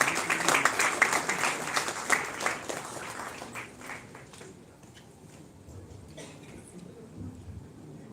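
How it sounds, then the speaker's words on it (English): An audience at an Indian film festival award ceremony applauds the filmmakers, a dense burst of clapping that gradually thins and fades out. "So please give a round of applause for all the filmmakers."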